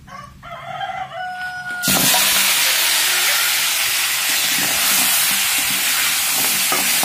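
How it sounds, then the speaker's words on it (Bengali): Crab hits a hot pan of oil and bursts into a loud, dense, steady hiss and sizzle that continues without pause, just after a rooster crows in the background. "কাঁকড়াটা কিন্তু আমাদের দেওয়া হয়ে গেল, ভালোভাবে ভেজে নিতে হবে।"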